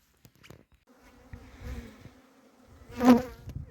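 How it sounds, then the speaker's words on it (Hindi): Honeybees buzz intermittently close by in an orchard, a few short humming passes rising and fading, with one louder buzz near the end against quiet surroundings. "ये देखो जी मधुमक्खी भी लगी है अपना काम करने।"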